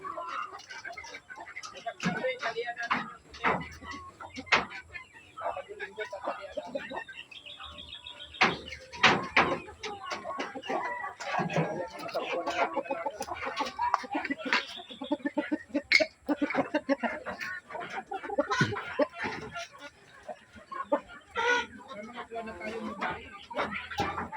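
Native chickens gather at feeding time, with clucks and chirps scattered under a person talking almost throughout, the birds fairly close but often masked by the voice.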